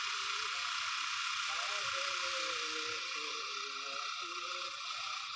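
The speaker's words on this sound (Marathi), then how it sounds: "आपलं ड्रोन चालू झालेलं आहे" Small motors spin with a high, steady whining buzz, while someone talks underneath.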